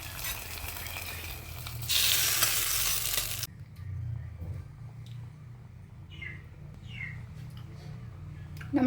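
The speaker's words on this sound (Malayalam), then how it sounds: "ഇനിയിപ്പോൾ നമുക്ക് ഇച്ചിരി ഉള്ളി മുളകൊക്കെ കൂടെ ചാടിച്ചുള്ളി ഇടാം." Onion and chilli drop into hot oil as a tempering for a colocasia-stem curry, giving a loud crackling sizzle for about three seconds that then settles to a quieter fry, with faint birds chirping in the background.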